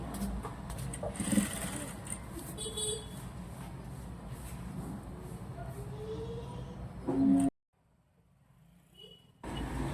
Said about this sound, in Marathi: सरळ सरळ गोटवरती शिलाई टाकून घ्यायची आहे